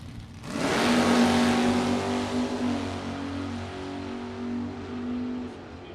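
Vintage drag race cars launching down the strip at a vintage drag race, a loud engine roar surging up abruptly after a brief pause, then holding a strong sustained drone that slowly fades, with no talk.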